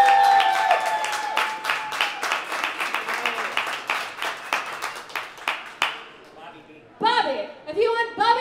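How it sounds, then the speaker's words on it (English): Audience at a St Patrick's Day comedy show at Santa Fe Brewing Company clapping and cheering as a vote for a comedian, loud rhythmic applause that fades out, then a host speaks. "If you want Sally to win,"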